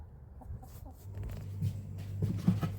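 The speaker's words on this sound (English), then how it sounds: "So I'm feeding my chooks" Chickens being fed cluck softly and intermittently nearby, growing busier and louder toward the end amid light rustling.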